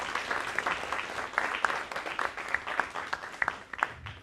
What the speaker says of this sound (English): if we could give a round of applause to our families that are here as well